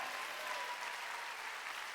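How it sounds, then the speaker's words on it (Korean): Church congregation clapping together during a Sunday worship service, a steady, dense wash of applause that holds evenly for the whole two seconds with no voices over it. "깨달은 사람만 박수 쳐야겠야."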